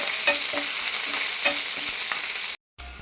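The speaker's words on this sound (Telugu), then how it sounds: "ఆనియన్ వేసుకున్న తర్వాత ఇలా కలుపుకుందామండి సైడ్ తీసుకొని ఇలా కలుపుకుందాం" Onions with dried red chillies stirred in a pan for okra fry, sizzling steadily with repeated spatula scrapes roughly every half second, then a brief silence near the end.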